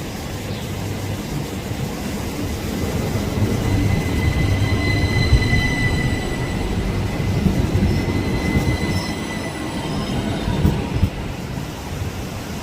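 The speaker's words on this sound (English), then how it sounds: "And this is the tram train thing here, making its way back to Kur station." A mountain tram train near Arosa, Switzerland, heading to Chur, rolls steadily past in the early morning, a long continuous rumble with faint high wheel squeal, no voices, staying fairly loud throughout.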